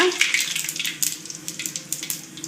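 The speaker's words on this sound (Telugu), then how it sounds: "ఆయిల్ వేడెక్కిన తర్వాత దాంట్లో కాస్త ఆవాలు" Mustard seeds and cumin frying in hot oil for mango pulihora, a close, crackly sizzle with rapid irregular pops and spatters throughout, fairly quiet and with no talk.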